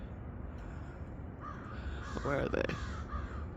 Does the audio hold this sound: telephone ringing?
no